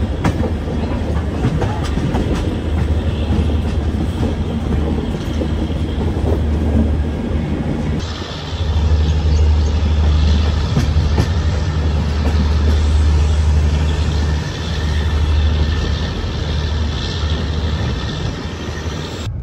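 A passenger train pulls out of Krishnarajapuram on its way to Vasco da Gama, with a steady, loud rolling rumble and a rhythmic clickety-clack of the wagons that swells slightly midway and runs throughout with no voices.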